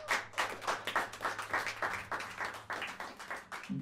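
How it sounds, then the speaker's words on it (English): Audience applause in a jazz club after a quintet with tenor saxophone, piano, upright bass and drums is introduced; a scattered, fairly small crowd claps in uneven bursts, moderately close and steady, with no talk over it. "Bring hands together and give a warm round of applause"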